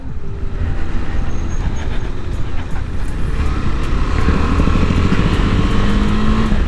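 A KTM 390 Adventure motorcycle is ridden on the road. A steady engine drone and heavy wind rumble stay loud and close throughout, with no break.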